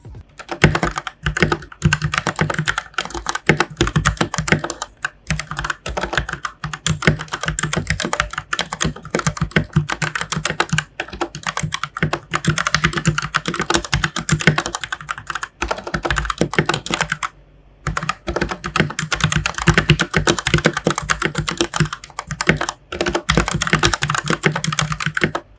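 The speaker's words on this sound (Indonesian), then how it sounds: "silahkan didengarkan langsung ketika gua tes ngetik ini" Fast, continuous typing on a Koodo Gecko budget dual-connection mechanical keyboard produces crisp, close clacks in a dense irregular patter, with a couple of brief pauses between bursts.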